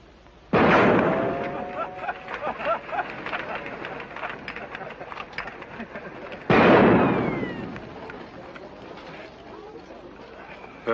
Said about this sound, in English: now watch how they shoot